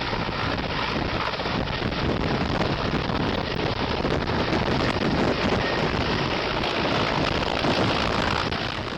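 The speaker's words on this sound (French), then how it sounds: "l'hélicoptère décolle" A helicopter takes off, roaring loudly and steadily close by, with heavy wind buffeting throughout and no voices.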